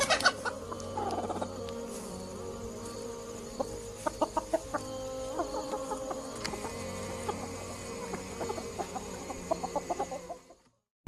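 Chicken clucking close by in short, repeated bursts with scattered sharper calls, continuing steadily before stopping abruptly at the end.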